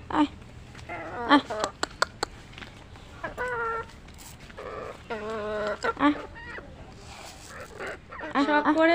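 Chickens cluck and squawk repeatedly at close range, with short sharp calls and a few louder cackles in between.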